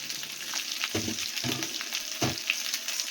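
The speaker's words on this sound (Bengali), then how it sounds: "অলরেডি মুড়োটা সুন্দরভাবে ভাজা হয়ে গেছে" A fish head fries in hot oil as a steady sizzle, with three soft scraping stirs spaced about half a second apart, close and alone without talk.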